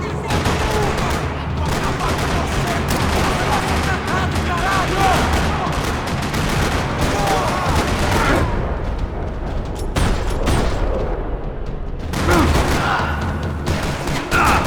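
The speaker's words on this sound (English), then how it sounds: "Another parking lot rattling with gunfire." Heavy gunfire in a parking lot in the video game Max Payne 3, dense rattling automatic bursts and booming shots overlapping continuously, with brief lulls and distant yelling in the mix.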